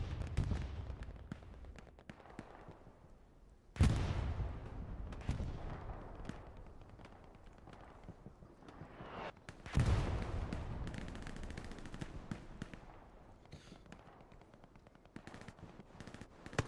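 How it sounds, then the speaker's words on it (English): Heavy explosions from a bombing run in the competitive console game Hell Let Loose, with two big booming impacts at about four and ten seconds among continuous rumbling gunfire and blasts, loud and close with no talk. "That's a HLLE bombing run on Gardens."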